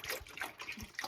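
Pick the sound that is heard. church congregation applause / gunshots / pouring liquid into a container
pouring liquid into a container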